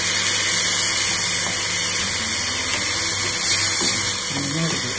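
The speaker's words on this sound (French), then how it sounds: "On ajoute aussi de l'eau pour la cuisson, un verre à thé d'eau" Water poured steadily into a pan of stuffed squid and rice for cooking, a continuous loud splashing flow that runs unbroken throughout with a faint voice underneath.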